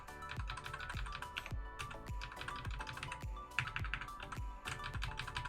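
Keys on a computer keyboard are pressed in a brisk, steady run of crisp clicks, roughly two per second, close and quiet with no talking over them.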